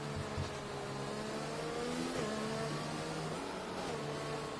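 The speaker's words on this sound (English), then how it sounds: "So now, let's take a listen to these cars" Race cars in a racing video game on a Vietnam circuit roar continuously, engines droning and shifting pitch as they rev and pass, a steady dense wall of motor noise with no talking.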